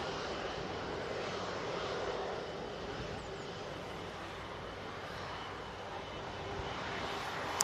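Jet engines of an EasyJet airliner at Manchester Airport give a steady, faint roar that holds evenly throughout with no talk over it.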